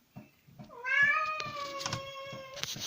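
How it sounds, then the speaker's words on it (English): A pet cat named Grim meows in a long, drawn-out cry close by, a single sustained wail with a harsh, rising edge and no talk over it. "So that's one of the cats, Grim, crying in the background there"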